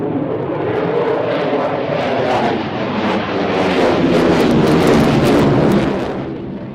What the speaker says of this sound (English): and it's the Royal Netherlands F-16